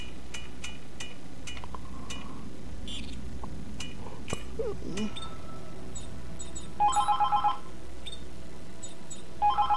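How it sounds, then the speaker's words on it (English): A telephone rings in the sci-fi survival horror game Dead Space 3, two short bursts of electronic trilling over a dim ambient hum, clicks and clinks. "Stupid fucking phone."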